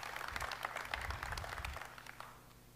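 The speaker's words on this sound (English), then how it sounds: "A round of applause for Ellen." Seminar audience at a live gut health event applauding a speaker named Ellen: a dense wash of clapping that holds steady, then thins and fades toward the end.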